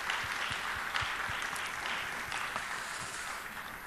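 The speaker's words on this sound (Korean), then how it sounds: "다시 한번 박수하겠습니다." A church congregation applauds with steady, sustained clapping that fills the sanctuary at moderate volume, with no talk over it.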